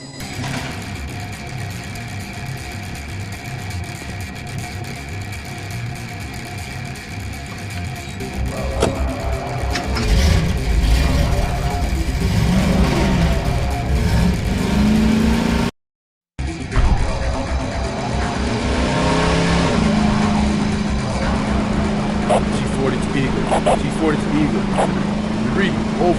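A vehicle engine runs steadily in the Kabus 22 video game, a continuous mechanical drone that swells louder partway through, with a brief cut in the middle, and game voices speak over it.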